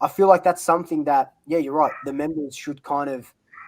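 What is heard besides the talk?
None of the usual background noises is heard.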